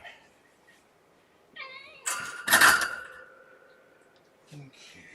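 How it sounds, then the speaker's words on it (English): Kittens meow a few times up close, a pair of short cries followed by a louder drawn-out mew, with a person's voice speaking softly around them. "kittens."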